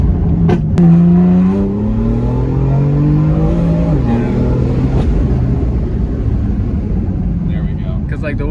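BMW M2 CS pulling hard in second gear with anti-lag active, a loud, close engine note rising steadily, with pops and crackles, as people talk inside the car.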